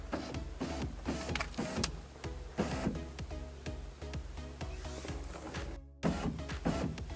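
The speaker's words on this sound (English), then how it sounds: "and now we'll bring the window down." The power window on a BMW E46 coupe's front door whirs down with its electric motor, a fairly quiet hum broken by repeated clicks and knocks, a brief dropout, then more motor noise.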